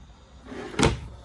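One RV kitchen drawer in a 2020 Forest River Wildwood 33TS travel trailer slides and shuts with a single soft, close thud, with no one talking.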